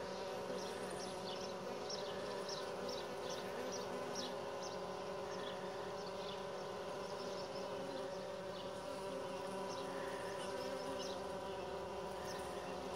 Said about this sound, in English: A few bees coming in and out.